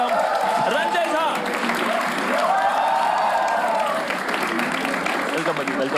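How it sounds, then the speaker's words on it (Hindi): Studio audience applause and cheering welcoming a guest onto a reaction show, sustained clapping with a voice talking and calling out over it throughout. "तो क्या हम तालियों के साथ बुला सकते हैं?"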